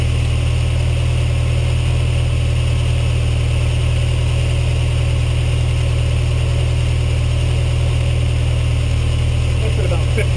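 A Ferrari 308 GTS engine runs at a steady idle of about 1500 RPM during a carburetor sync, with a loud, even, close drone throughout and a voice faintly over it.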